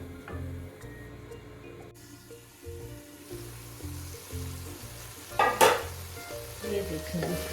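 Chicken and masala for a chicken vegetable salan sizzle gently in a pan while being stirred, a soft steady frying with occasional scraping clinks and a brief burst of sharper noise partway through, no voices.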